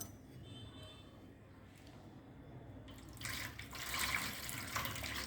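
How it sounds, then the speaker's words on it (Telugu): Water is poured during a Hindu ritual offering after turmeric and kumkum are applied, a soft splashing stream that starts after a quiet stretch and continues to the end. "ఇంకా కొంచెం నీళ్ళు పోద్దాం"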